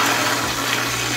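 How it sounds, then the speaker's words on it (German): An American toilet flushes with a brief, loud, close rush of swirling water. "Also man drückt die Spülung."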